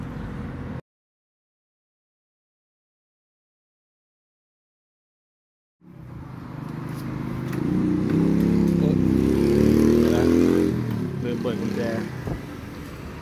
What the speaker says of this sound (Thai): สตาร์ทง่ายมากนี่ครับเครื่องติดแล้ว